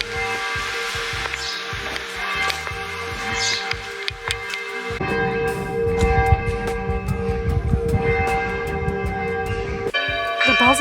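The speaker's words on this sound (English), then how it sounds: "The bells are so aggressive for 8:30." Church bells ring loudly at 8:30 in the morning in a small Franconian town in Germany, a sustained clanging peal that fills the space, with occasional sounds nearby.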